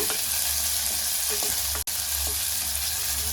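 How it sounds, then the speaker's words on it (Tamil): Two medium onions sautéing in groundnut oil for a green gram gravy, sizzling steadily up close with a few stirring scrapes and one sharp knock partway through. "ரெண்டு மீடியம் சைஸ் வெங்காயம் போடலாங்க. பொன்னிறமாக வதங்கட்டுங்க."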